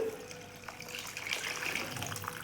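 Milk poured into a pot of rice kheer already mixed with cardamom powder, grated coconut and sugar, giving a short steady gushing pour that is soft and close.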